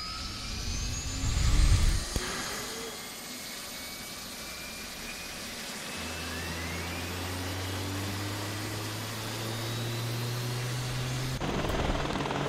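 A helicopter in the DayZ Red Falcon mod video game spins up, with its engine whine rising steadily and rotor drone building, plus a low steady hum joining partway through; no one speaks.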